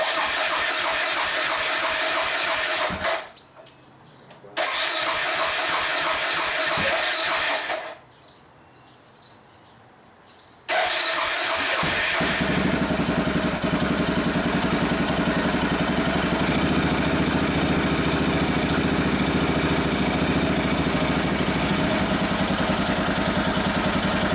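A Suzuki DR650 motorcycle engine cranks and stutters twice, goes quiet between the attempts, then catches and settles into a loud, steady idle on choke close by.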